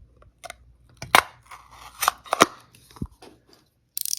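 A knife scores a cross-shaped cut during a crystal-bead lamp craft, giving a few sharp, close scraping strokes separated by brief pauses.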